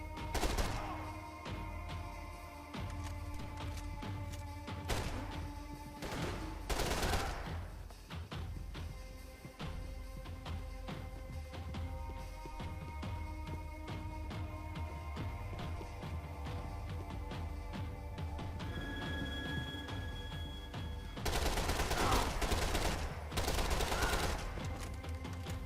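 Gunfire in the video game Max Payne 3: repeated shots and bursts of automatic fire over a steady game soundscape, with a loud volley near the start and another dense barrage toward the end.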